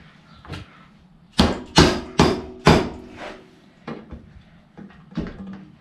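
Several sharp metallic hammer blows, loud and close, driving a motorcycle rear axle through the adjuster, struck in a quick cluster and then followed by a few lighter taps.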